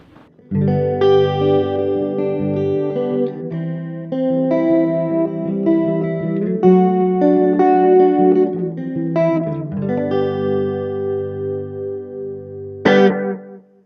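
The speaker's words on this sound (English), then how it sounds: "Next up, we have chorus and delay." Electric guitar played through a Vox AC2 RhythmVox mini amp with shimmering chorus and delay repeats trailing each phrase, continuous chords and melody with a bright strum near the end.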